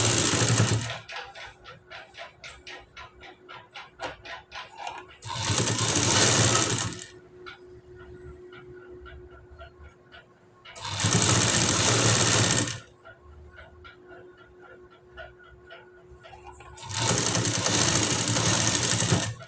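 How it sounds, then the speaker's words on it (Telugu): A sewing machine stitches piping onto a blouse neckline in four loud, close bursts of rapid mechanical chatter. Between the bursts come quieter stretches of ticking and a faint hum. "ఇదిగో ఇలా ఈక్వల్గా కుట్టుకుంటూ రావాలి."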